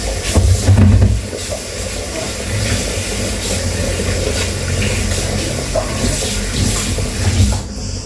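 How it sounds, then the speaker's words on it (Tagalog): Plates being washed under a running tap in a home kitchen in Chania, Crete, giving a steady close rush of water with clinks and splashes throughout. "ugas na tayo ng plato"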